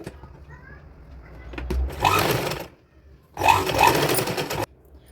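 A sewing machine stitches a patch onto a designer kurti in two close, whirring bursts of about a second each, with brief quiet pauses between and a voice speaking faintly around them.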